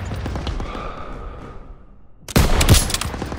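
Bursts of rapid gunfire erupt in a World War II combat battle in Call of Duty: WWII, loud and close after a quieter stretch of distant battle noise.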